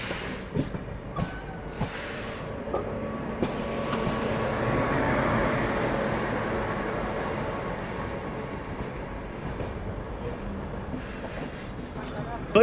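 Prayagraj Bikaner Express running at night, a steady broadband rumble of wheels and carriage with rattles and a few brief louder bursts, continuous and fairly close throughout.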